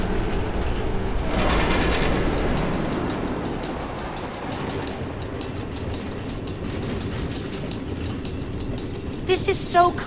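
Minecraft Story Mode train running along automated rail tracks through the Nether, a continuous loud rumbling roll with rhythmic clicking from the rails and a few sharp clacks near the end.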